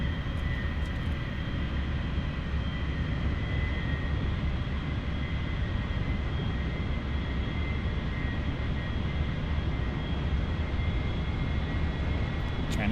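A-4E Skyhawk jet engine in the DCS: World flight simulator: a steady, loud broadband roar with a constant whine holding throughout, with no break or change in level.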